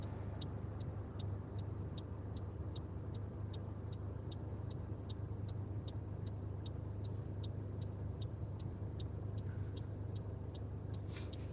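Steady road rumble inside a car driving north, a constant close drone with a faint regular ticking running throughout and no talk.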